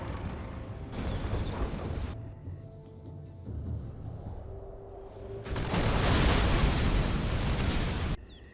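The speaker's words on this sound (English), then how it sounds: "Artillery now coming in from Stazz." Artillery shells explode in a Command & Conquer Generals battle, making heavy, rumbling blasts that swell and overlap in long waves, loud and broad, with quieter stretches between the barrages.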